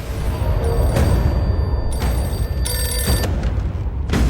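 A telephone rings with repeated bursts over a loud, dense movie soundtrack during a post-interval fight scene in KGF Chapter 2.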